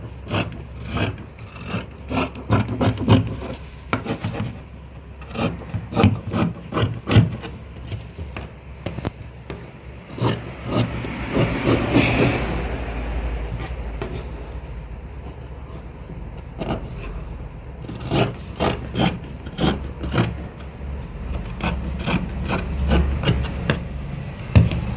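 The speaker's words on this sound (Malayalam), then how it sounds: "ഇനി നമുക്ക് സ്ലീവ് കട്ട് ചെയ്തെടുക്കാം." Scissors cutting fabric for a nighty frock sleeve, with repeated crisp snips in irregular bursts and soft rustling handling in between, close and moderate in level.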